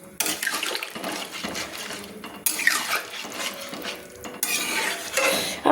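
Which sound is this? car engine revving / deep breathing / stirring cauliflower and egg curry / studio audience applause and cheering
stirring cauliflower and egg curry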